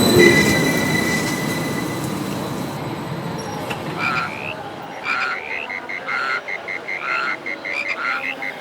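A train pulls into Gede station at night, its wheels squealing and rumbling loudly before the noise fades away. Bullfrogs then croak in a repeating rhythm against the quiet.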